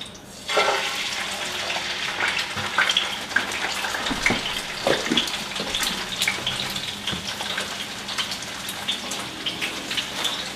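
Halibut fillet laid into a hot pan on the stove sizzles and crackles steadily, a dense spattering hiss that starts abruptly and continues loud and close throughout, with no talking.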